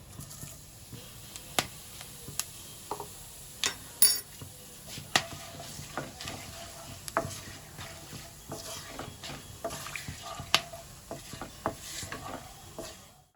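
Cloves, bay leaves and whole cumin sizzle in hot oil with a steady close hiss, broken by scattered clinks and scrapes of a utensil against the pan.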